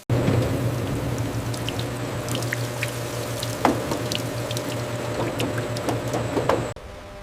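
Water sprays and splashes steadily over strawberries in a pre-rinse wash on a jam factory line. A low machinery hum runs underneath, with scattered drips and small clinks, until the sound cuts off near the end.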